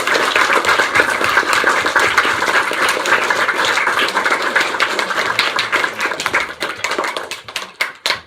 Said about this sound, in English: I think we owe these actors a round of applause